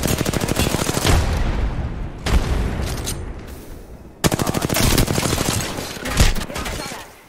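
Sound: gunfire in video game Apex Legends

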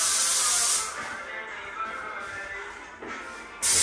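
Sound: paint sprayer spraying a newly built house

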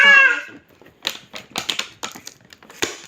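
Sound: packing tape being pulled open on a package

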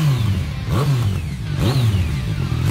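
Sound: BMW S1000R motorcycle revving with SC Project full exhaust

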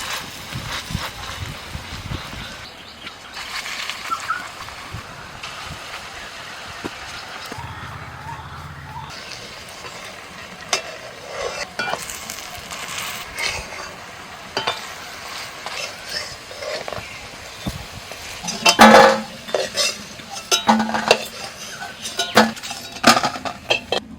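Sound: frying fish fritters in oil in a wok

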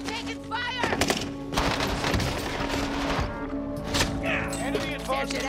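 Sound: gunfire in Call of Duty Warzone video game

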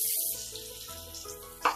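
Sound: potatoes added to hot oil, sizzling

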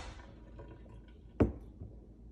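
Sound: pouring water out of measuring cup

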